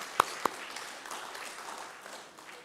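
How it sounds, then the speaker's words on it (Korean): Members of a Korean United Methodist congregation in Oakland, at a New Year Sunday service, clap together in a soft, moderately distant round of applause, with two sharp louder claps near the start. "박수 한번 합시다"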